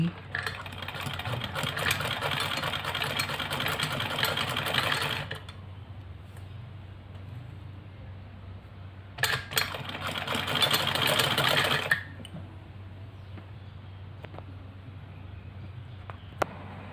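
A sewing machine stitches lace onto a ladies' kameez in two loud, steady whirring runs separated by a quieter stretch of low hum, sounding close by.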